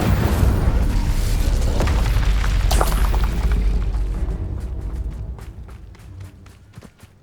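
Fire spell bursts from a wand in the video game Hogwarts Legacy, a loud roaring whoosh with booming low rumble that fades over several seconds, leaving scattered sharp ticks and pops at the tail.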